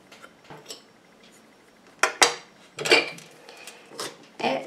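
Shea butter being stirred into bath bomb powders in a bowl: irregular scraping and clinking bursts of a utensil against the bowl, some louder strokes, with quieter pauses between.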